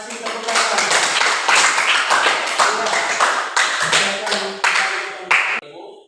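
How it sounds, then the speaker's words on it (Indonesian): Students in a classroom applaud after a presentation, with dense, lively hand clapping that stays steady for several seconds, sounds close and loud, has some chatter mixed in, and cuts off at the end. "terima kasih tepuk tangan"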